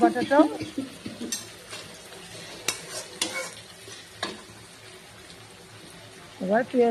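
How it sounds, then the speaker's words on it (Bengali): Garlic paste is stirred into hot oil in a pan for a shidol chutney, with intermittent spoon scrapes and clinks over a low sizzle; a voice is briefly heard at the start and end. "রসুন বাটা দেওয়া হয়ে গেলো। এবার এটা মিশিয়ে নিব।"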